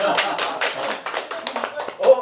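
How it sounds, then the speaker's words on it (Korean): Audience at a book cafe talk clapping in a loose, uneven patter of hands, fairly close, with brief voices talking over it. "그럼 박수 치세요"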